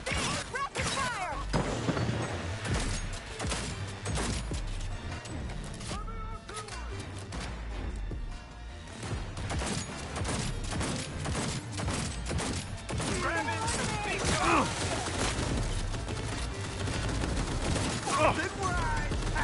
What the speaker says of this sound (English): I'm reloading! Rapid fire!